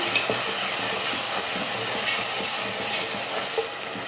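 A spoon stirs sautéed tomato masala with chili powder in a hot pan for a sankara fish curry, giving a steady, close sizzle with frequent scraping strokes and no voices.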